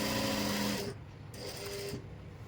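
Domestic sewing machine stitching the seat seam of a pair of trousers, a steady close whirring run that stops partway, followed by a short quieter burst of stitching.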